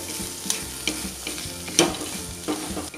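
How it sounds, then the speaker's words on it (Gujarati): Taco stuffing seasoned with salt, amchur powder and coriander is stirred and fried in a pan, giving a steady sizzle with regular spoon scrapes and clinks about every half second, close and alone with no talking. "બધું જ બરાબર મિક્સ કરી લઈએ"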